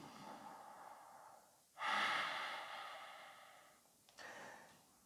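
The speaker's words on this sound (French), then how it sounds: "on revient à cette respiration de plus en plus intense, profonde" Deep, slow breathing during a yoga class: a strong, drawn-out inhale and exhale, then a quieter second breath, heard close and alone in a quiet room.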